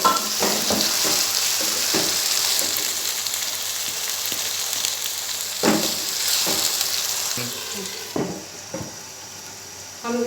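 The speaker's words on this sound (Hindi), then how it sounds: "लहसुन अदरक फ्राई हो चुका है। अब हम इसमें टमाटर डालकर मिक्स कर लेंगे।" Chopped tomatoes are stirred into garlic and ginger frying in oil for a chicken angara, giving a loud, continuous sizzle with repeated scraping stir strokes, close up and without talk.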